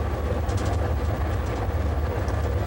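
A BART train on the Oakland side heads into the Transbay Tube with a steady, loud, close low rumble of wheels and carriage noise throughout, faint high rail squeals mixed in.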